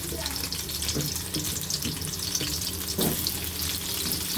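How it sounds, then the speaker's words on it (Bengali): Potatoes fry lightly in oil for a chicken curry, a continuous hissing sizzle with a few stirring knocks in the pan, close and steady with no talk. "আলুটাকে আমি হালকা করে একটু ভেজে নেব।"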